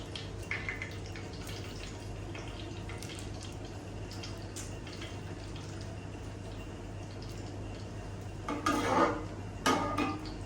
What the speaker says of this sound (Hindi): अभी मैं डालूंगी इसमें घी।